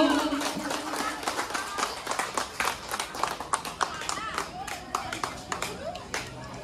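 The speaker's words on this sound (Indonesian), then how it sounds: "Tepuk tangan dulu Bapak Ibu." A church audience at Santa Maria Immaculata parish in Mataram breaks into applause, many hands clapping in a dense, uneven patter that stays lively for several seconds, with voices mixed in.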